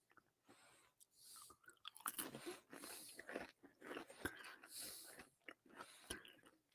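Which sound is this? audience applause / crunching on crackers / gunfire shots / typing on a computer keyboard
crunching on crackers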